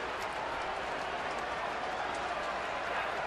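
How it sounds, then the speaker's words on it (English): A baseball stadium crowd at a Los Angeles Dodgers at Arizona Diamondbacks game roars after a swinging strikeout, a dense, steady wash of cheering and clapping that holds at an even level throughout. "But listen to the crowd."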